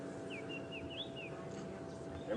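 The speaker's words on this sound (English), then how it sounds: "It's white-browed scrub robin doing its singing up the riverbed here." A white-browed scrub robin sings along a riverbed in Djuma Game Reserve, a faint series of thin whistled phrases rising and falling at a distance over a quiet outdoor background.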